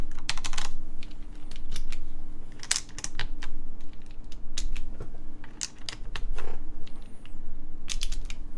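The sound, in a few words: keycaps being swapped on a mechanical keyboard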